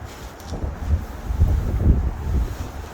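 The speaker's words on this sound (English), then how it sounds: "It's so windy today." Outdoor wind buffeting a microphone on a blustery day while stray cats feed, producing low rumbling gusts that rise and fall continuously without any voices.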